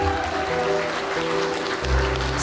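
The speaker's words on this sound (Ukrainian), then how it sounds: "А що так мало плескають, я не поняв." Scattered audience applause at a wedding reception, a steady wash of clapping over a low musical hum and background chatter, growing slightly louder toward the end.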